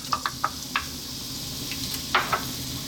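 Onion frying in olive oil in a pot, a steady soft sizzle with several sharp clacks of a utensil stirring against the pot, close and without talk.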